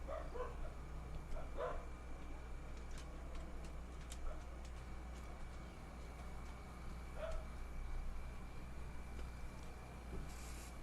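Dogs bark indoors, sending several faint, distant barks and yips in scattered bursts over a low steady hum.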